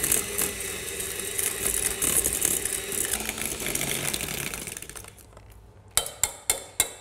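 Electric beater creaming margarine and raw caster sugar in a bowl, whirring steadily for about five seconds before cutting out, then four sharp knocks ring out in quick succession.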